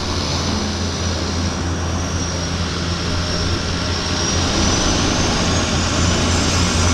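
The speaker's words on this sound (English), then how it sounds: "there's 3 airplanes on the move here at the same time" Seaplane engines roar continuously at Vancouver Harbour Airport, with several aircraft moving at once, producing a loud, broad, steady droning wash that builds slightly toward the end.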